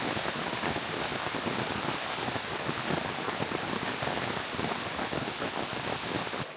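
Heavy monsoon downpour in the Konkan countryside, a dense, steady roar of rain pelting surfaces, loud and unbroken throughout with no voices.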